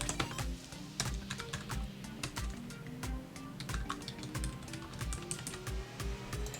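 A phone number is typed into a text field on a computer keyboard, a quiet, steady patter of close key clicks with irregular spacing and no voice.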